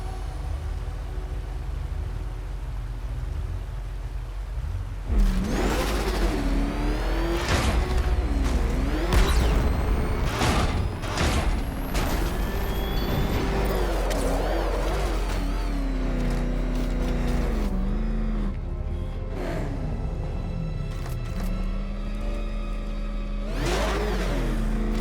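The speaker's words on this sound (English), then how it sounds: "Can't think and drive at the same time, Dark Knight." Batmobile from Batman: Arkham Knight driving in-game, an engine hum with repeated revving surges and whooshes over a steady low drone, loud and continuous throughout, with no talking.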